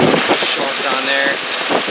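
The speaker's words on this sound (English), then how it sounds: "See that our compressor is running." The engine of a 2005 Volkswagen Passat 1.8T idles with the A/C compressor running, a loud, close, steady mechanical hum over two seconds.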